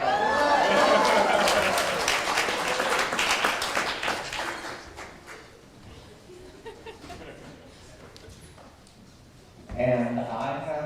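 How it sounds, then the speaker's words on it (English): Audience applause at a Unitarian fellowship service, with dense clapping from a room full of people that swells, then thins out over about five seconds before a voice starts talking. "A round of applause for Andrea Ragnar."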